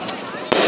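Fourth of July fireworks crackle and pop nearby, with a sharper loud burst midway and a voice talking over the crackling.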